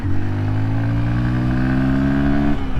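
A 2025 Honda XR150L dual-sport motorcycle engine pulling hard at full throttle, a loud, close, steady drone whose pitch climbs smoothly before easing off at the end, with no voices.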